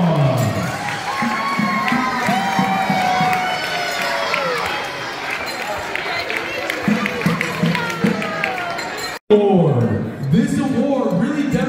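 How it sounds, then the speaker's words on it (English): Crowd cheering and applause at a school robotics award ceremony, loud and sustained, with shouting children and voices throughout, briefly cut off near the end before the noise resumes. "Let's give them a huge round of applause."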